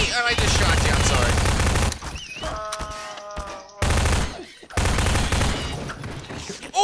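Rapid automatic gunfire from a scary Garry's Mod zombie hunt, with loud sustained bursts broken by short pauses, plus an electronic game tone and voices talking between volleys.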